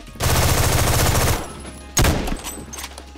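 Rapid automatic gunfire in a Roblox shooter game, a dense burst of about a second followed by a shorter burst, loud and close with faint background sounds.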